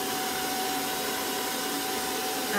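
A hair dryer blows steadily while hair is round-brushed, giving a constant, even whoosh of moderate loudness with no breaks and no voices.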